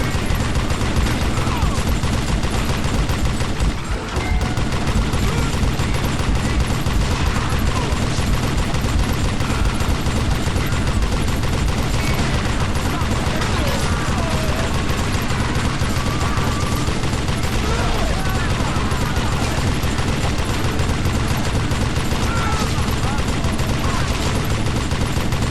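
Relentless gunfire in the Western shooter Call of Juarez Gunslinger, dense overlapping shots and rapid bursts filling the whole stretch, loud and close with game noise and a voice underneath.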